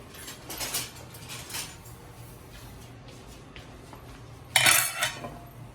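A metal spoon clinks and scrapes against a dish during stuffing, a few light taps early and a sharper, louder burst of clinks near the end, with kitchen background noise.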